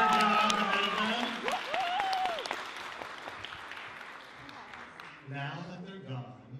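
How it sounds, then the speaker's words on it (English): Audience applause for the judges at a Shakespeare monologue and scene contest in a theater, a dense burst of clapping that swells and then tapers off, with a host speaking over and between the claps. "Round of applause for our judges."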